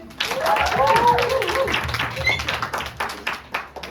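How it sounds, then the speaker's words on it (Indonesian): Audience applause at a youth church gathering, clapping rising in a crowd with voices and shouts mixed in, thinning toward scattered claps near the end. "Kasih tepuk tangan bagi kita semua dong"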